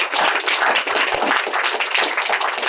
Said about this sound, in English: Another round of applause for these amazing people.